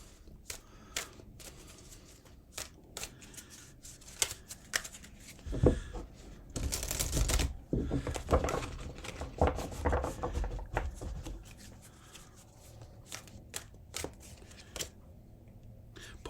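Oracle cards are shuffled in a burst of papery riffling and rubbing, close and moderately loud, amid lighter handling taps and card flicks before and after.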